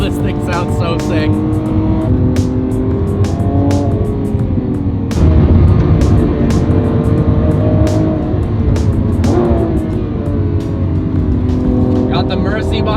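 A Lamborghini Aventador SVJ engine roars loud and close from inside the car, pitch rising and falling through gear changes, with sharp crackles between, while people talk excitedly over it.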